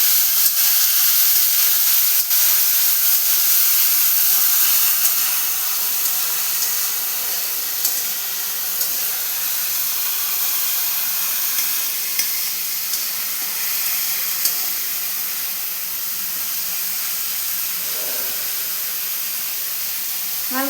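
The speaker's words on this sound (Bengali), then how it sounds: "হালকা হাতে পেঁয়াজটাকে একটু নাড়বো, পেঁয়াজে যাতে কাঁচা ব্যাপারটা চলে যায়" Onion being stirred and fried in a pan makes a loud, steady hiss that sounds like steam and sizzling. It goes on unbroken and eases off slightly partway through.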